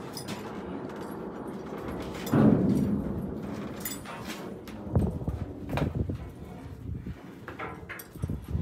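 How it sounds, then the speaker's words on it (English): Horses being gathered near a corral clip-clop in an uneven, moderately close rhythm, with a louder thud at one point and scattered hoof strikes over a steady outdoor background. "There are the horses."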